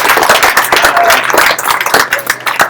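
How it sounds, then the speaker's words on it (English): A meetup audience in an office space claps together, a close, steady patter of many hands that carries on through the whole stretch with some voices mixed in. "You can clap."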